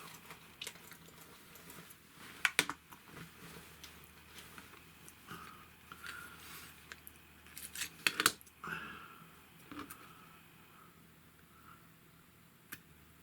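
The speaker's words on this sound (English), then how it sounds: "There we are, West Country whipping, and I'll cut that off." Scissors snipping the thread of a West Country whipping on a card-and-paper model schooner, faint close snips and small clicks, with two brief sharper cuts among quiet handling noises.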